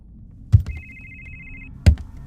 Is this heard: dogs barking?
no